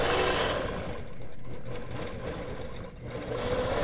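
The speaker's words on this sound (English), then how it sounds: "Then we're going to stitch our feather motif." A sewing machine stitches a feather motif on a quilt in a steady, fast mechanical whir, close and continuous with slight dips in speed.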